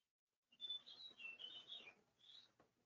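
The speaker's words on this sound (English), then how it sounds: "I hear a bird." A bird gives a brief run of high, thin chirps and whistles, faint and distant, with a short pause before a final note and no talk.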